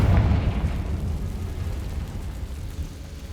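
The Confringo blasting spell in Hogwarts Legacy lets off a loud, deep explosive boom that rumbles and slowly fades over a few seconds.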